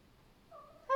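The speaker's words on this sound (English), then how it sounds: "You can hear my little cat meowing." A small pet cat indoors gives a short, faint meow that rises in pitch and swells in volume at the very end of a quiet one-second moment.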